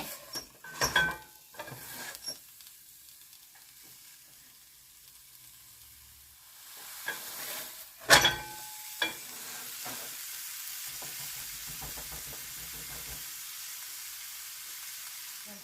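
Meat sears and browns in a hot skillet with a soft, steady sizzle, broken by a few sharp clatters and scrapes of a utensil against the pan, heard close with no talking.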